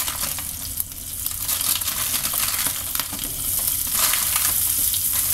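Onions fry together with dried shrimps as the base of a vegetable curry, making a dense, continuous hiss and crackle of hot oil that stays loud and even throughout, with no talking.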